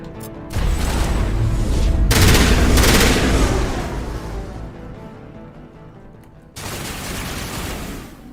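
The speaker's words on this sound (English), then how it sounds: "Let's shoot some of these guys down here, too." Sustained rapid gunfire bursts from the video game Mass Effect: Legendary Edition, loud and dense, tailing into a fading echoing rumble before another burst of shots starts near the end.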